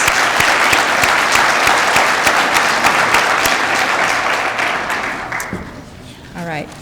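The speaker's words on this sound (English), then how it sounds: "So we can give those graduates a round of applause." An audience applauds graduates at a commencement ceremony with loud, dense, sustained clapping that slowly thins and fades near the end, where a brief voice emerges.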